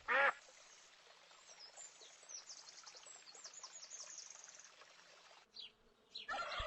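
A duck quacks in short, loud bursts at the start and near the end, with a quieter, buzzy stretch in between.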